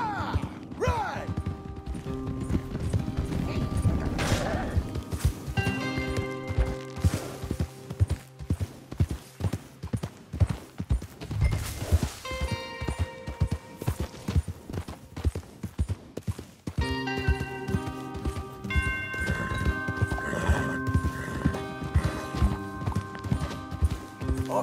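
Rhythmic clip-clop of galloping horse hooves in Red Dead Redemption 2 over a layered music score, steady and loud, with a brief crash midway and occasional faint voices.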